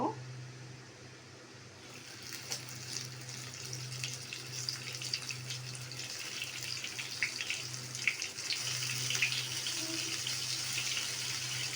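Eggplant pieces fry in hot cooking oil, giving a steady close sizzle that builds slightly over time, with a low background hum throughout.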